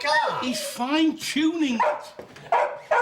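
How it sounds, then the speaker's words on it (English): Dog barking at someone tampering with a parked car outside a house, a few sharp barks overlapping with close conversation between several people. "he's barking because there's somebody fiddling with your car"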